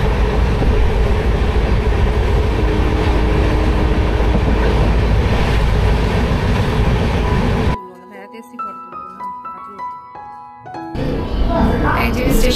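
The 13147 Uttarbanga Express from Sealdah to New Jalpaiguri rolls along the rails with a loud, continuous roaring rumble heard from inside. The noise drops sharply for a few seconds, leaving quieter tonal sounds, then the rumble returns, with a voice speaking.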